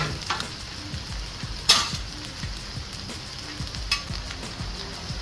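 Beef asada sizzles steadily while frying in a pan for street tacos, a dense continuous hiss broken by a few sharp scrapes and clicks from cooking utensils, close and fairly quiet, with no talking.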